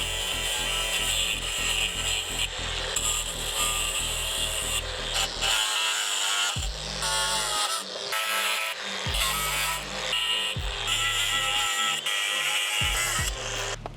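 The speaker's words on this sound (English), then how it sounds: "I have to get an angle grinder." Angle grinder cutting out old cable clips during home repairs, a loud continuous whining grind that keeps running, with its low-end drone briefly dropping out and cutting back in as the blade bites, close with no speech.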